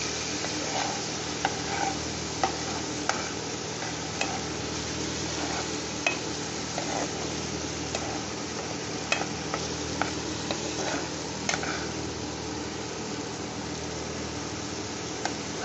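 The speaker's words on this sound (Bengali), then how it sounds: "এইটা একটু নেড়ে ছেড়ে তারপরে কষে নিতে হবে" Mutton liver masala stirred and fried in a pan with a little water, a steady close sizzle with frequent spoon scrapes and clinks against the pan at an uneven rhythm, no talking.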